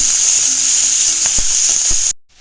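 Curry leaves sizzle and crackle in hot oil with already-popped mustard seeds, a bright steady hiss with a few sharp pops, cutting off abruptly at the end.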